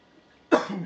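A single harsh, close cough that bursts out suddenly and trails into a rough, wheezy exhale.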